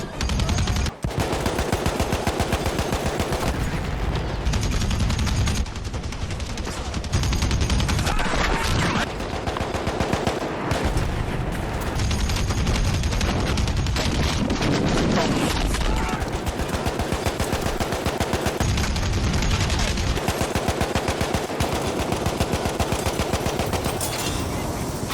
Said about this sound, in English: if you want to be Rambo manning the 50 cal in Rambo 4, then the M1917 MG is the gun for you